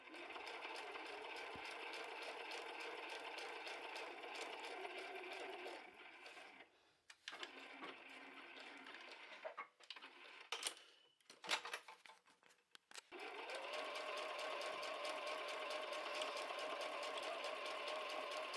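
A sewing machine runs steady stitching along the side seam of a fabric bag made from narrow 3.5 cm strips, with a continuous whir that pauses briefly midway as the fabric is adjusted, then resumes at full speed.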